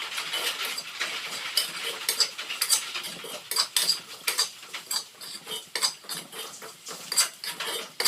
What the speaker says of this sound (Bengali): অনবরত নেড়ে চেড়ে উপকরণগুলো অনেকটাই লাল লাল করে ভেজে নেব